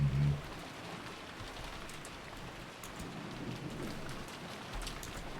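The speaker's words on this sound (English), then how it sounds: "The scene goes dark with the sound of a heavy downpour." Heavy downpour and rolling thunder in the game Hinamizawa Bus Stop, a dense continuous rain roar with a low rumble at the start and again near the end, with no voices.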